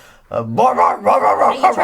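A person imitates a dog up close, giving a string of loud, rhythmic barks and yips in quick succession after a brief quiet start.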